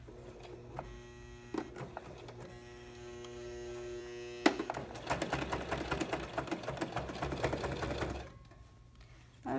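A BabyLock Pro sewing machine runs straight stitches through very heavy fabric for a simple bag. It gives a steady close whirring hum with rapid needle clatter that speeds into a dense run in the second half and then stops. There is no talk.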